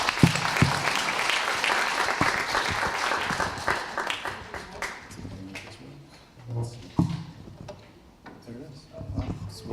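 An audience applauds a speaker at a UX and data presentation, with clapping strongest at the start and fading out, followed by knocks and a speaking voice.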